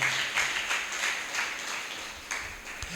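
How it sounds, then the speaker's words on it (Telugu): A church congregation claps together in a steady, fairly loud burst of hand claps filling the space for a few seconds. "చప్పట్లు కొట్టి దేవుని నామాన్ని కనపరుద్దాం"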